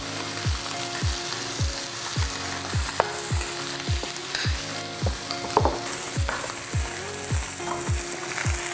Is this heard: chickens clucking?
no